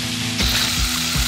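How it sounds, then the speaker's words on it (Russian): Vegetables and chicken sauté with tomato paste in a pan, a steady loud sizzle with a few rhythmic stirring scrapes, no voices. "Овощи с курочкой вместе пассируем с томатной пастой."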